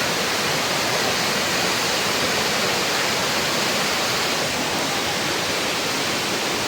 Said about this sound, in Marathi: आता धबधबा समोर आहे, आता रिॲक्शन देणार आहे.